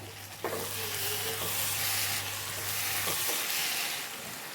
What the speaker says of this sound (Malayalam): ഇത്തിരി മുളക് പൊടിയും കൂടെ ഇട്ട് കൊടുക്കുന്നുണ്ട് കുറച്ച് മതി ഞാൻ നല്ലോണം ഒന്ന് വഴറ്റിട്ടോ